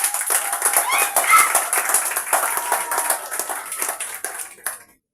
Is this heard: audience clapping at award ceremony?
yes